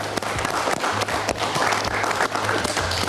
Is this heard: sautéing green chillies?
no